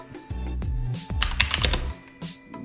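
Rapid typing on a computer keyboard, with dense clusters of key clicks and a few heavier keystrokes in quick irregular bursts, heard close and alone.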